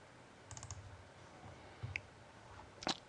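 Computer mouse clicks when pressing the Save button, a few small, quiet, sharp ticks spaced over a few seconds against faint room hiss.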